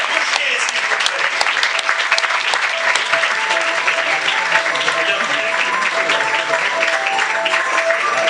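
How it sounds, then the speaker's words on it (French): Applause from the audience at a film festival closing and awards ceremony fills the hall, a dense, loud, unbroken clatter of clapping with a faint murmur of the crowd beneath. "que vous pouvez applaudir"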